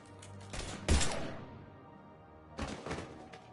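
Gunfire in Mass Effect 3, two short bursts of muffled shots and thumps separated by a brief lull, moderately loud.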